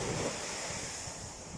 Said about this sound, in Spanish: Ahí viene la ola, papá.